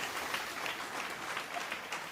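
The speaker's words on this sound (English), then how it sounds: "Let's give him a round of applause, ladies and gentlemen." Quiet, steady applause from a small group at a comic book community hangout. It sounds faint and distant for a couple of seconds.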